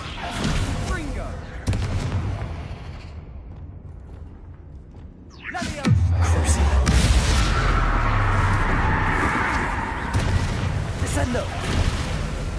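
Blasting spell explosions in a Harry Potter video game: a sharp whooshing burst around the middle erupts into a loud, sustained rumbling boom, with scattered impacts before and after over game sounds.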